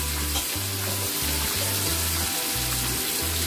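Green chillies and onion frying in hot oil for a large batch of chicken biryani, a steady close sizzle throughout with pulsing low tones, no voices.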